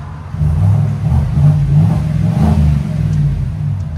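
A 2024 Chevy Tahoe's 5.3L V8, fitted with a Black Widow Widow Maker exhaust, revs hard and loud up close, holding a deep, throaty roar with a few surging peaks.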